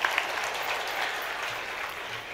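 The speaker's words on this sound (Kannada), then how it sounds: "ಹೌದಾದ್ರೆ ತಾವು ಚಪ್ಪಾಳೆ ತಟ್ಟಬೇಕು." Audience at a festival comedy show clapping, a continuous, moderately loud patter of many hands with no pauses.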